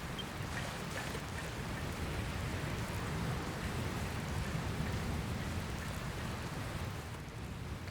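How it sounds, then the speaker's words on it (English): Rainfall in the video game Dragon Quest Builders 2, a steady hiss of rain on surfaces with a faint low rumble underneath, soft and continuous with no speech. "Where did this rain come from?"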